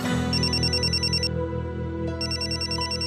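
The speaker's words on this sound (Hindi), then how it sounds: "देखिए एक फोन आ रहा है, बहुत जरूरी है।" A telephone rings in a repeating electronic pattern over a dense musical background, with two ring bursts separated by a short pause, loud and close.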